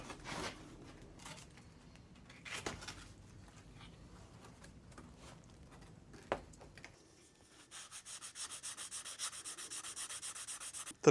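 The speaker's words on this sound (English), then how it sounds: "So it's pretty simple just to sand those down flush." Sandpaper rubs against Lexan plastic tabs to bring them flush, in irregular scratchy strokes at first, then a faster, even run of rhythmic back-and-forth passes near the end.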